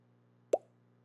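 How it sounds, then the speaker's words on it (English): A single short, soft pop-like software notification tone from eLasso sounds once against a quiet low hum, then fades quickly. "kind of like the Facebook notification sound you hear when you get a notification"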